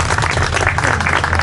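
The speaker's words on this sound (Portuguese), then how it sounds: "começava o Ricardo Almeida, para quem lhe peço uma salva de palmas" Audience applause at a chula music and culture event in Baião, a dense, steady wash of many hands clapping, loud and close for the whole moment.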